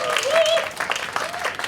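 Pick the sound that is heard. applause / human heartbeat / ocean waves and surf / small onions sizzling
applause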